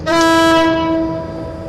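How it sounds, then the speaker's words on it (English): A loud, sustained train horn from a Pendolino in Train Simulator, with a rich harmonic chord, sounding steadily for nearly two seconds with a slight fade, alone with no talk. "They have a very resonant horn in Train Simulator."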